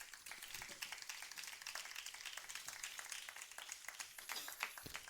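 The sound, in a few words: audience clapping for Jesus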